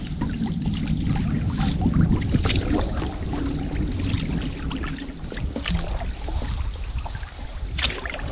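Canoe paddling on a wilderness lake during a multi-night trip, with soft water swishes and gentle dribbles repeating across the clip under steady outdoor ambience, fairly close by and moderate in level.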